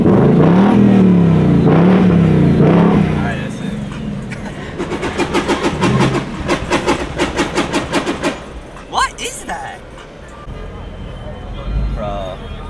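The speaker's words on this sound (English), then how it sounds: "Everyone is just lined up just to see cars rev and fly by." Cars rev and roar past a lined-up crowd at a car meet, one engine swelling loud near the start, then rapid revving bursts and fading passes, with people talking throughout.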